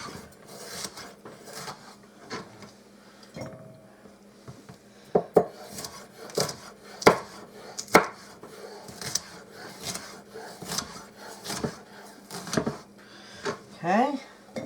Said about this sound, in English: I've got my peppers, and I'm just going to slice these and throw them in my bowl here